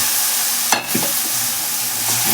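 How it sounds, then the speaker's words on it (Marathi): Steady sizzle in a pan as a gram flour (chickpea flour) mixture is stirred for misal, with a continuous loud hiss broken by a few sharp spoon scrapes, up close and alone. "असं हलवून घ्यायचं चांगलं."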